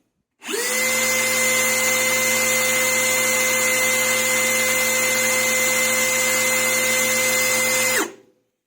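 A 12V cordless drill, either a Parkside Performance PBSPA 12 C3 or a Bosch Professional GSR 12V-35 HX, runs in second gear with a loud, steady high-pitched motor whine. It starts abruptly, holds an even pitch for about seven seconds, then stops.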